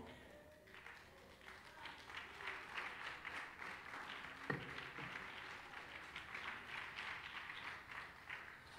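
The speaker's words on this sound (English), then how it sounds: "stand and clap your hands so I know who you are" A church congregation claps its hands in a faint, steady stretch of applause, with voices and shouting underneath and one sharper knock partway through.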